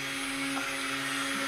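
Stick blender whirring steadily as it mixes cold process soap batter with colorants and fragrance, a constant close motor drone with no talk.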